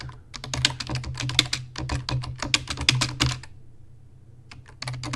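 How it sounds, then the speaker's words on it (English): Rapid clattering keystrokes on a computer keyboard as a question is typed into a chat, steady close bursts with a brief pause near the end before typing resumes, over a low constant hum. "I'm just typing in the question to the chat here so I can see this poll."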